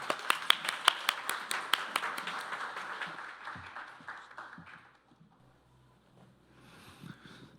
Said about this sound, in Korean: 무대 위로 이동하시는 학회장님께 우리와 같은 박수 부탁드립니다.